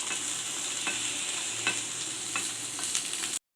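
Chopped beans sautéed in a pan, a continuous close hiss of frying with soft periodic stirring scrapes, ending abruptly.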